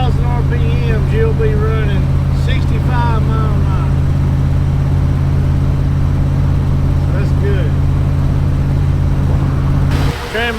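A 1957 Ford Fairlane 500 engine drones steadily from inside the car on a test drive, a constant low hum with road noise, while someone talks over it throughout before it cuts off near the end.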